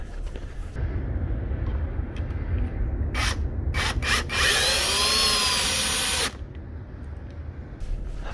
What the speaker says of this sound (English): put those long screws in one at a time